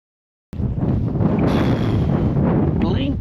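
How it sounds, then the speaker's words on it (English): Cold wind and rain batter an outdoor bike-packing camp, a constant roaring buffet of wind on the microphone starting abruptly and continuing, with a faint voice briefly underneath. "It's cold and freezing and windy and raining."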